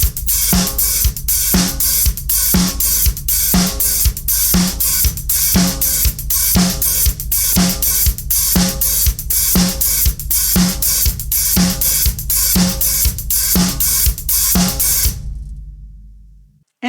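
A disco drum beat plays steadily with a four-on-the-floor kick, snare on two and four, and continuous sixteenth-note hi-hats, loud and alone, before it stops and a short tail fades out.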